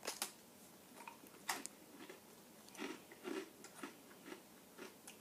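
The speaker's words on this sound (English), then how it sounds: "chewing this shit is so loud" Close, quiet crunching of brownie brittle being chewed, irregular bites and crackles spaced through the clip with no talking.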